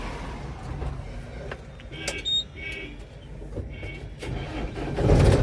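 A vehicle engine cranks and starts on an Indian roadside, with short clicks and whirs giving way to a building low rumble that swells loudest at the end, amid faint background noise.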